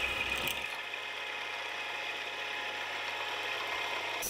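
A 6mm end mill cuts a slot in metal stock for a lathe knurling tool, heard as a steady, close machine whir with a constant low hum and a faint grinding edge throughout.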